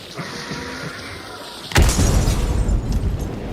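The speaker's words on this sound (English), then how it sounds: "Throwing grenade." A grenade blast in an online shooter game erupts suddenly after a stretch of quiet game ambience, a loud single boom followed by a rumbling, crackling tail that lingers to the end.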